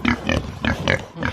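Several pigs grunt and oink in short, close bursts, about five grunts in quick succession, loud and alone with no talk over them.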